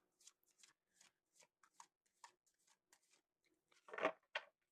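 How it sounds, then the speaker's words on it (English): A deck of tarot cards is shuffled in a quiet room, giving a series of soft, irregular riffling and snapping bursts that end in a louder flurry close up. "Let's do one good shuffle."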